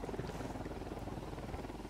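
Helicopter in the video game Ghost Recon Wildlands, a steady rotor drone with a faint rhythmic chop, moderately loud and continuous throughout with no talking.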